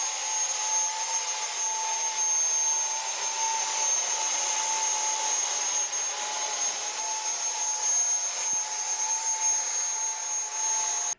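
A 3D-printed RC Harrier VTOL model jet hovers, making a steady, high-pitched electric ducted-fan whine that stays level and loud throughout with no talking.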